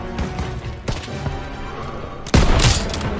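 Gunfire crackles through a Call of Duty WWII battle, with scattered loud shots and a heavy close burst near the end, over dense background combat noise.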